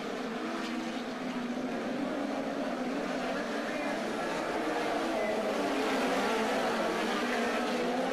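Sprint cars race around a dirt track, a steady, distant roar of several engines droning together without letup, with no clear pass-by peaks.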